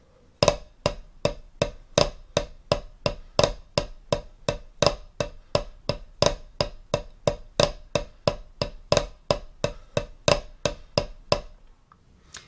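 Snare drum flam paradiddle rudiment played at an even eighth-note pace, a steady run of about two dozen crisp, close strikes with grace-note accents, played alone with no talking.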